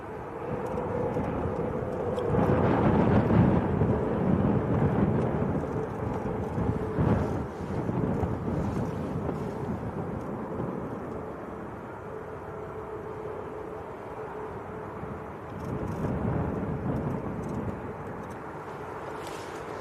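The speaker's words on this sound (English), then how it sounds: "This is Ryanair on short finals." Ryanair airliner on short final at Manchester Airport, a broad distant jet roar that swells and fades over about twenty seconds, mixed with outdoor wind noise.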